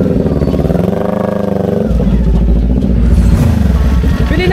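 Motorcycle engine revving at a wedding gathering, a loud, close, rough roar that rises and settles, with people's voices mixed in around it.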